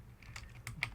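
A keycap being popped off a computer keyboard: a few small, sharp plastic clicks spaced apart, close and quiet, with no talk.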